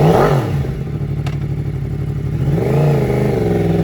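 A used 2011 Yamaha R1 superbike motorcycle engine revs loudly up close, its throaty idle rising into a higher-pitched rev near the end, with no talking.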